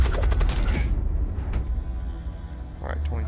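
Ship weapons firing in the space combat game Void War, a rapid burst of loud, close shots in the first second, then a rumbling decay with a couple of fainter blasts afterward.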